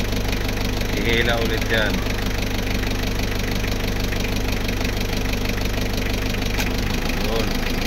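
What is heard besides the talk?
Mitsubishi L300 engine running with AC compressor engaged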